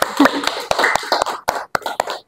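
Sparse, uneven clapping from a small group of teachers at a regional language teachers' forum, about a dozen close, sharp claps spread over a couple of seconds before falling silent.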